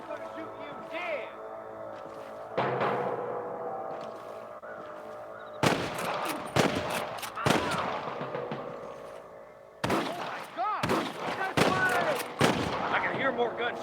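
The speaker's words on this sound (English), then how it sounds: "I can hear more gunshots." Gunfire in Red Dead Redemption cracks out in sharp, loud bursts, single shots and quick clusters spread across the scene, some near and some more distant, with voices talking in between.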